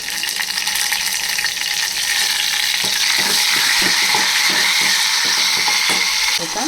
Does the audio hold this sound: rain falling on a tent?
no